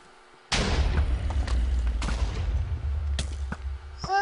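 Cannon shots and booming explosions in a competitive multiplayer video game match, with a sustained low rumble and several sharp blasts scattered through the clip, loud and close.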